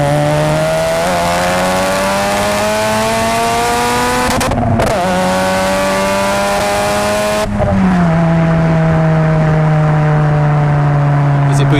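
A Mazda RX-7 with a bridgeported rotary engine revs high and steady with a buzzing, rising whine toward 9,500 rpm, dropping briefly twice as gears shift before climbing again, loud and close.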